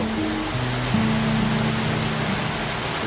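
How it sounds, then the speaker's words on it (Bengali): Heavy rain pours outdoors beside fish ponds as a dense, steady roar of broadband hiss, joined by a low droning hum in the background throughout. "আজকে সকালটা শুরু হইল এই ঝুম বৃষ্টি দিয়ে"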